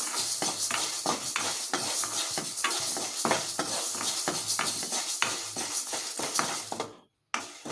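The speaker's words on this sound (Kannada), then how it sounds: "ಈಗ ಮೊದಲಿಗೆ ಹೆಸರು ಕಾಳು ಹುರ್ಕೊತಾ ಇದ್ದೀನಿ ನೋಡಿ" Green gram (mung beans) dry-roasting in a pan, with steady scraping and rattling from stirring over a dense, continuous rustle, close and fairly loud, cutting out briefly near the end.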